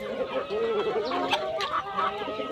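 Tiger breed chickens clucking nearby in a short burst of murmuring, wavering calls over a busy background hum of the farm.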